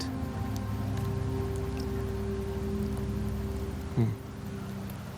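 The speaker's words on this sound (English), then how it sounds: "The rains in Septimont never seem eager to leave this season." Steady rain falls in the video game Wuthering Waves, an even patter on surfaces under a low game drone, with a brief louder swoosh near the end.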